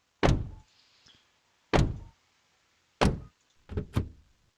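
Car doors slamming shut one after another, four solid thuds with a quick double thump at the end, crisp and close with silence between them.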